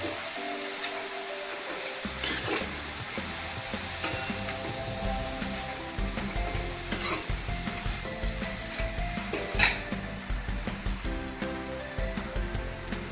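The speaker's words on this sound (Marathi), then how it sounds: "मेथीसुद्धा चांगली त्याला परतून घ्यायची आहे" Fenugreek sautéing in a pan for green brinjal bharit, a low steady sizzle with occasional sharp scrapes and taps from a spatula at irregular intervals.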